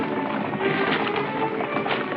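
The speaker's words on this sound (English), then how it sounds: "Horses." Horses trot at a steady clip-clop pace while hauling a count's coach along a road, the hoofbeats blending into a dense, continuous rumble of wheels and movement at moderate loudness with no voices.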